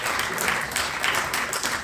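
Audience applause at a history congress on the Beast of Gévaudan, a dense burst of clapping from a crowd, loud and close, lasting under two seconds without voices.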